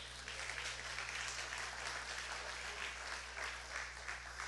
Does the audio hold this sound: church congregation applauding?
yes